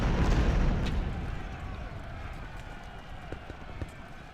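An artillery battery firing in the Civil War strategy game Ultimate General: Civil War, a loud opening blast rolling off into distant rumble, with faint pops and shots scattered afterward.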